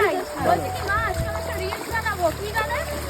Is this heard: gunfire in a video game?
no